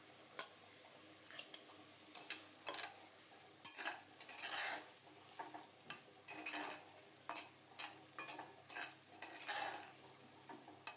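A spice masala is stirred and sautéed in a karai, with intermittent scraping strokes of a utensil against the pan over a soft, steady sizzle.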